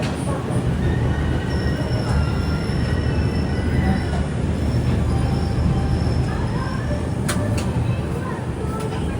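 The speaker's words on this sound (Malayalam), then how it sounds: "ഇവിടുന്ന് ഒരു ട്രെയിൻ എടുത്തിട്ടുണ്ട് മുന്നിലോട്ട്." Train moving through a station on the Agartala to Bengaluru Humsafar Express journey, a steady continuous rumble of rolling stock with faint wheel squeals and some background voices.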